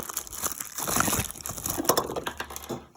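Packaging being unwrapped from boxed Warhammer Necron Destructor miniatures, with close, continuous crinkling and crushing of plastic that swells midway and fades at the end.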